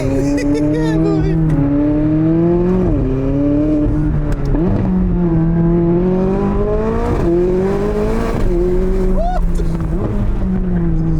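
A go-kart engine drones loud and close through a race, its pitch rising and dipping in repeated revving swells as the kart accelerates and slows, continuous throughout the clip.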